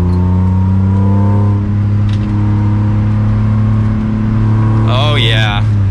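A 1996 BMW M3 E36, apparently with an aftermarket exhaust, drones steadily and loudly from inside the cabin while driving, with a brief rising whine near the end.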